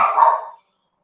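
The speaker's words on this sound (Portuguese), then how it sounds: "O cachorro não é meu, não." A dog gives a single short bark, close and fairly loud, then cuts off into silence.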